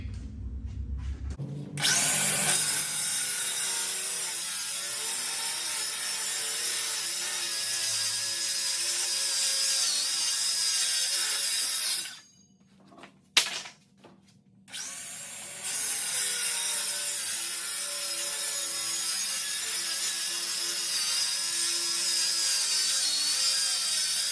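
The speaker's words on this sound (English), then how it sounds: "So we're gonna start ripping these strips" A saw ripping wood into 2.5 inch wide strips, loud and sustained with a high whine, a brief stop and restart near the middle, then cutting steadily on.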